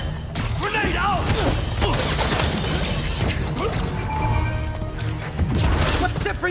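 Grenade blast and gunfire during combat in the game Spider-Man 2, a dense, continuous loud clatter of shots, crashes and debris layered with game music and effects, with voices speaking under it.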